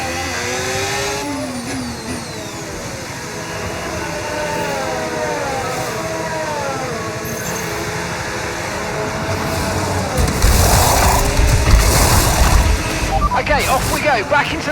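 Racing car engines in a motorsport video game roar continuously, with rising and falling revs as gears change, growing louder and busier toward the end.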